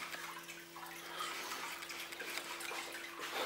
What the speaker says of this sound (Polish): Dzięki czemu woda leci sobie pod kątem i mniej więcej w połowie akwarium odbija się od tylnej ściany akwarium